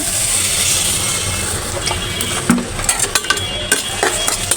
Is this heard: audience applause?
no